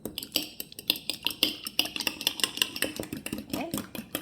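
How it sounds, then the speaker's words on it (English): An egg is beaten briskly in a bowl, giving rapid, rhythmic clinks and taps of a utensil against the dish, close and fairly quiet, with a faint hum behind. "We will need to beat our egg"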